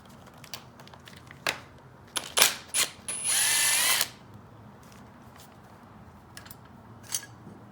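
A ratchet loosens a 10 mm bolt on a Yamaha YFZ450 engine: a few sharp, isolated clicks, then about a second of rapid, continuous ratcheting, with quiet pauses around it.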